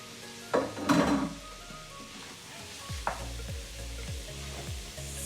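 Onions and peppers hit a hot pan with a sharp clatter, then fry in a soft, continuous sizzle broken by a rhythmic series of spatula scrapes and stirs, with no talking.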